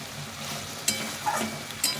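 Spices and vegetables sizzle gently in a pan as they are stir-fried with small splashes of water, a soft steady frying hiss punctuated by a few brief scrapes and spits.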